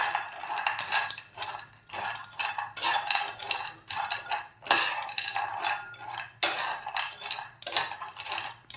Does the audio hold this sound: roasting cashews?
yes